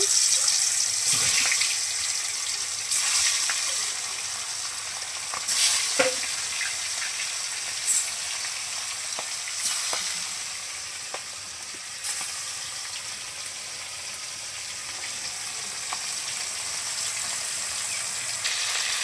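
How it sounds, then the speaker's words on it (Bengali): Fish frying in hot oil on a clay stove, a steady hiss of sizzling with occasional sharp crackles and spatters, continuous and close with no talking. "তেল গরম হয়ে গেছে মাছগুলো দিয়ে দিচ্ছি"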